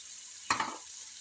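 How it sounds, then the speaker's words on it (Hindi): Boiled turnips hit hot frying masala with a single short, sharp sizzle burst that quickly dies away to a faint hiss. "तो इस स्टेज पे मैं शलजम डालूंगी जो मैंने बॉईल करके रखी थी।"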